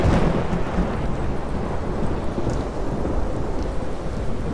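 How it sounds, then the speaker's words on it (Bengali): A violent storm over a forest, with heavy rain pouring down steadily and rumbling thunder rolling underneath, loud and continuous throughout with no voices. "একদিন প্রচণ্ড ঝড় এলো"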